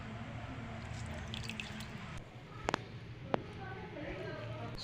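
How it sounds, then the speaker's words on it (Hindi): Soaked dahi vada are squeezed by hand, giving soft squishing and scattered water drips under someone speaking, with a couple of sharp clicks partway through. "अब इनको दबा के ऐसे दबा के पूरा पानी इनका निचोड़ लेना दबा के"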